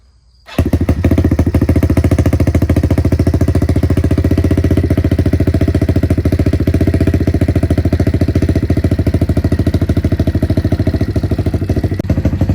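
After a brief quiet moment, a Kawasaki KLX110 dirt bike with a 143cc high-compression engine cold-starts after sitting overnight and settles into a loud, rapid, steady idle that runs without a break.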